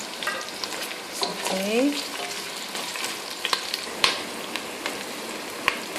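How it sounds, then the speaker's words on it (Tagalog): Chicken liver sautés in a pan for Filipino adobo, cooking until lightly golden brown. A steady close sizzle runs throughout, with scattered pops and crackles and a brief spoken word near the start. "Isusutay po natin siya hanggat siya ay lumambot at maging konting golden brown"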